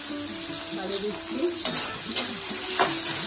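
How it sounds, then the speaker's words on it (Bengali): Cashews and tomatoes fry in a pan for paneer curry, a close, steady sizzle broken by three sharp clinks and scrapes of a stirring utensil, with faint talk underneath. "কাজুগুলোকে এবার ফ্রাই করে নিই।"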